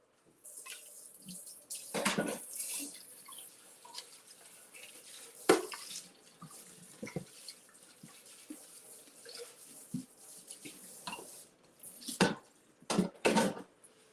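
Tap water running into a sink while a container is rinsed out, with irregular splashes and clatter up close and a few sharper knocks near the end.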